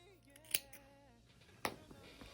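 Two crisp snips of scissors cutting crochet yarn, one early and one later, separated by quiet handling noise.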